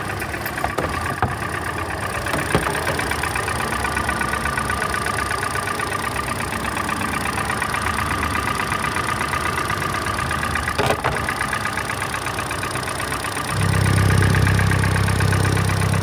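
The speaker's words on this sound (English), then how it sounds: "2012 Hyundai Elantra engine noise." A 2012 Hyundai Elantra engine with blow-by idles steadily up close, a continuous rough mechanical drone with a slight rise in low rumble near the end.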